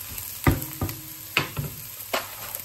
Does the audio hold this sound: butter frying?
yes